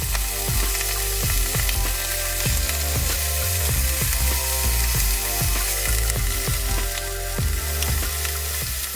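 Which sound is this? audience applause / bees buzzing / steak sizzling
steak sizzling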